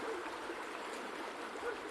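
River water flowing steadily in The Black Mirror, a continuous soft rushing and trickling wash with no breaks, fairly quiet and even throughout.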